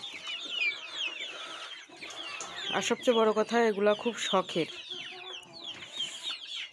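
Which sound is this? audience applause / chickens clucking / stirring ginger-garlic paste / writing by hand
chickens clucking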